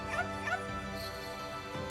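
A dog barks and yips in the video game Okami, a few short high calls early on over a steady layer of game music.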